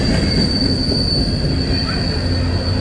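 A CSX manifest freight train led by five locomotives rolls past close by, a loud, steady roar of rail cars with high wheel squeal running through the whole stretch.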